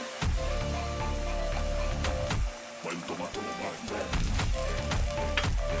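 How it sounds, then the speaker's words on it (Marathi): Ginger-garlic paste hits sizzling, browned onions in hot oil, giving a loud, steady frying crackle that runs throughout with brief stirring clatter, while a voice talks over the cooking. "कांदा लालसर होत आलेला आहे. आता त्यामध्ये आलं लसूणची पेस्ट"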